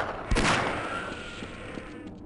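A loud gunshot blast in the video game Half-Life rings out early, followed by fainter bangs and a noisy echoing tail.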